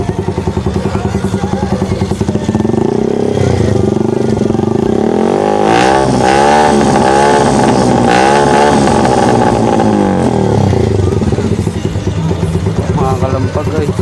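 Motorcycle with an open-pipe exhaust revved during a sound check, a loud close engine rising and falling through several throttle blips before settling back to a rumbling idle.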